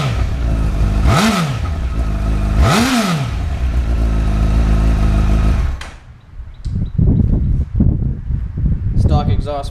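A 2007 Honda CBR1000RR motorcycle engine with stock exhaust revs twice with rising and falling roars, then settles into a lower rumbling idle with clattering, close by.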